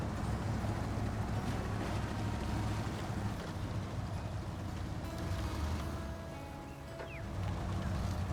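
In the truck game SnowRunner, a fast-flowing river rushes with a dense, steady roar of water. A low engine rumble runs underneath throughout, and no one speaks.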